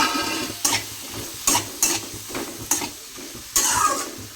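Chopped ridge gourd tipped into a hot pan and stirred for a dry vegetable dish: about five sharp scraping strokes of a spatula against the pan, regular and close, over a soft steady sizzle with no talking.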